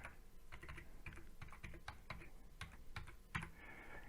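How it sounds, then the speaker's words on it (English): Quick, irregular taps of keys on a mobile phone as a phone number is entered into a text message, a steady run of close, light clicks with no voices. "you just type in TT, then your full mobile number without any spaces"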